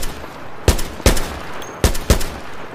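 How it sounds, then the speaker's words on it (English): Four sharp rifle gunshots ring out in the Minecraft Decimation Mod video game, coming in two close pairs over a steady background hiss, loud and punchy. "I'm starting to think that most of these rifles have 2 shots"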